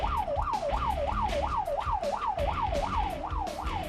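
A Korean fire engine answering a call blares its siren in a fast, even up-and-down wail, cycling about three times a second, loud and close above the rumble of the moving truck.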